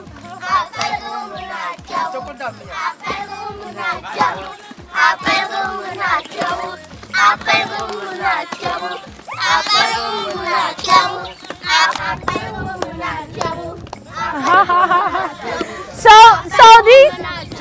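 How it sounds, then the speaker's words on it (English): Children are taught shea butter making: steady rhythmic pounding thumps keep time under a mix of women's and children's voices talking and chanting, close by and growing busier toward the end. "This is the sound you hear when they are teaching the children how to make shea butter."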